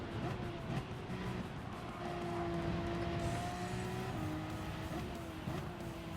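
Race car accelerating out of a corner at Road Atlanta in a racing game, a steady engine drone rising in pitch under the power with faint tire noise throughout.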